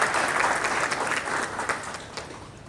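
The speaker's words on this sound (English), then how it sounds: "one bigger round of applause" Applause from a lecture audience welcoming a professor, a dense steady wash of many hands clapping that fades slightly toward the end, with no voices over it.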